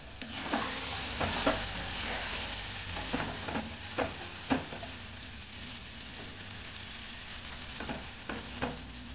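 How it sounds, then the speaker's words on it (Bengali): Spiced pea filling for paratha stirred and spread around a wok as it dries, a steady low sizzle broken by repeated scraping and tapping strokes of the spatula, close by and moderate in level. "এভাবে কড়াইয়ের চারিদিকে মেলে মেলে শুকনো করে নেব, তাড়াতাড়ি শুকনো হয়ে যাবে।"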